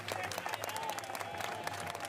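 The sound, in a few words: crowd applauding firefighters at a parade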